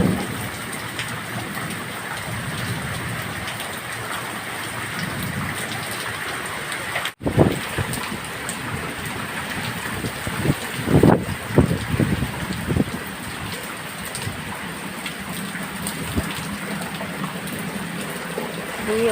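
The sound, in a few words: heavy rain falling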